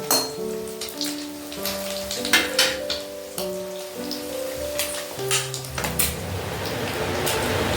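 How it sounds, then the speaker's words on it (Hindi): An egg frying in a pan, with a continuous crackling sizzle and scattered pops, mixed with a few clinks of a utensil against the cookware. "तो हमारा अंडा तल रहा है"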